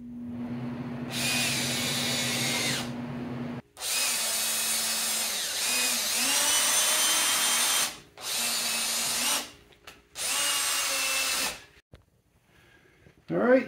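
A power drill whirs loudly in several long bursts separated by short pauses, with a steady hum underneath at first, close to the microphone, while a 1987 VW MK1 Cabriolet convertible top is replaced.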